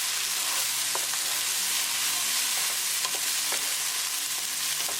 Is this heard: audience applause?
no